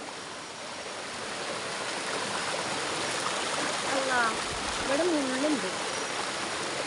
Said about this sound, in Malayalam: ഇനി വെള്ളം കാണിച്ചു തരാം പുഴയിൽ